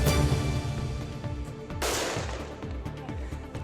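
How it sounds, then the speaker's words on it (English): Fireworks fired at police, fire and ambulance crews crack and pop in sharp bursts, one loud blast standing out among scattered bangs and rattling noise. "Police, fire and ambulance staff say their lives are being put at risk by firework attacks like these."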